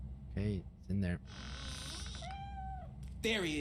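A cat meows in the Robocop: Rogue City video game, a few short, close meows separated by buzzing game ambience, with a voice briefly heard between them.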